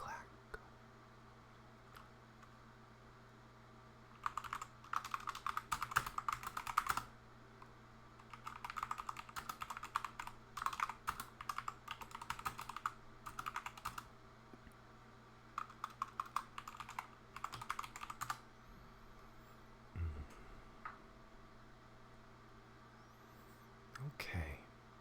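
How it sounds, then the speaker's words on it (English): Keys on a computer keyboard clatter softly during coding, irregular bursts of quick clicks spread through a quiet room with a faint low hum beneath and occasional murmured speech. "Really hope these key presses are picking up, because it adds nice bit to the vibe."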